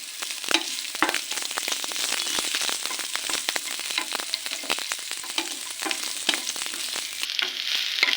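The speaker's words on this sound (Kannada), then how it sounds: "ಸ್ವಲ್ಪ ಫ್ರೈ ಆದ ತಕ್ಷಣ ನೀವು ಆನಿಯನ್ನ ಹಾಕಿ ಚೆನ್ನಾಗಿ ಫ್ರೈ ಮಾಡ್ಕೋಬೇಕು." Onions frying with ginger in a pan for vegetable kurma, a steady crackling sizzle broken by frequent spatula stirs and scrapes, close and continuous.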